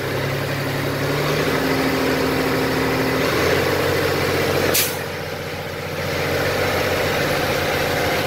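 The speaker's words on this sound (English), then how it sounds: "I'm gonna go ahead and run up the RPMs." A 2000 Kenworth W900L truck engine runs as a loud, steady diesel drone close by, rising slightly as the RPMs are raised, with a brief hiss near the middle and no talking.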